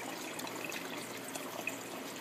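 Tap water is poured into a container for growing phytoplankton, making a faint, steady trickle and light splashing that stays quiet and even throughout.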